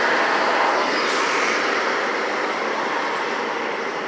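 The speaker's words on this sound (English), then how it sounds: "hitting that rush hour traffic" Steady rush hour road traffic in Albuquerque roars as a constant broadband wash of passing vehicles and tire noise, loud and unbroken, with no talking.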